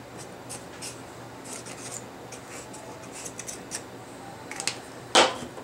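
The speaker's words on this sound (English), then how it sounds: "outline the heart a little bit. Just kind of make it look like you're sketching." Pencil scratches on paper sketch a heart outline in short, quiet strokes, a series of faint rasping scrapes ending with one louder, sharper stroke near the end.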